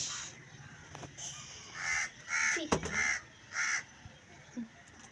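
Crows caw in a short series of loud, evenly spaced calls outdoors, with a brief rustle or knock midway and no talking.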